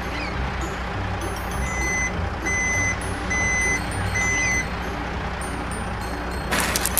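A toy truck on a beach plays a repeating reversing beep, four evenly spaced electronic tones over steady low background noise, ending in a brief louder rustle.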